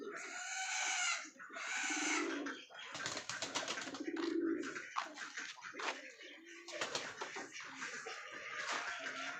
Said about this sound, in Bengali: দেখুন সব পায়রাগুলো এখানে রয়েছে।